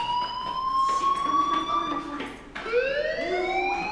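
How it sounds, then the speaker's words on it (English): Fire alarm wailing inside the video game Life is Strange, a loud electronic tone sweeping up and down in repeated glides, heard alone and steady over four seconds. "Hey, do you hear that fire alarm?"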